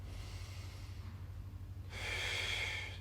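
A soft breathy exhale during a standing Swiss ball exercise, a faint airy rush of about a second heard close over a low steady background hum, with no talking.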